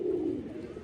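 Pigeons in a rooftop loft coo softly and steadily at dusk, low and fairly close, with no voices.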